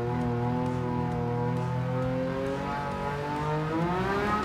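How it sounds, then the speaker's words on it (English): Tyres scream continuously on a car in the Gran Turismo 7 racing game, a loud sustained whine layered over steady engine drone with rising and falling pitch, no voices. "You can hear the tyres screaming."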